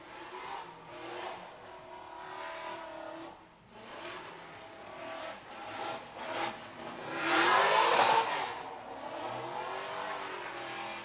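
A drift car rounds a dirt berm at a drift pit, its engine rising and falling from a distance, then swelling into a loud revving surge with tire squeal and braking, then fading again.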